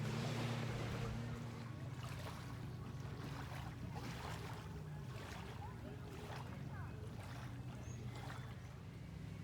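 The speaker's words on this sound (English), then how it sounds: "there is a lot of noise from the jet skis, everyone out on the river" Jet skis run on a river, a steady far-off engine drone and water wash under wind, with a low hum near the start and faint voices now and then.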